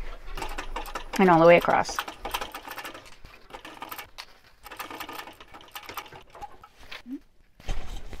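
A sewing machine back stitches a seam on a Beachcomber clutch bag in short, rapid mechanical bursts, with a clear run near the start, while a person talks.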